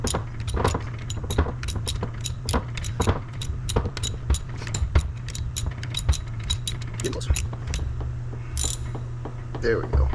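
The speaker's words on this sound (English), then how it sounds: "You can normally just give it one more crank with a regular size ratchet" Ratchet cranking bolts snug on a track loader final drive during assembly of face seal, bearings and brakes, a run of close, rhythmic metallic clicks over a low steady hum.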